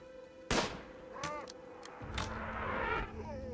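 Gunfire in the colony game RimWorld: one sharp, loud shot followed by several scattered lighter cracks and a rumbling stretch, with a voice faintly present underneath.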